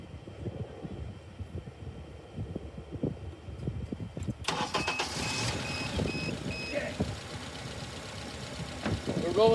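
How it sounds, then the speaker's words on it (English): A car engine turns over and catches abruptly, then settles into a steady running hum with some tonal whine; a voice talks beforehand. "I'll start the car."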